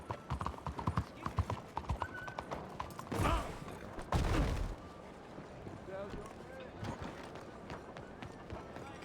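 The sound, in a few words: horse hooves and neigh in video game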